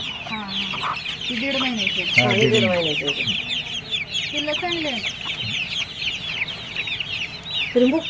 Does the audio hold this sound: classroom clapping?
no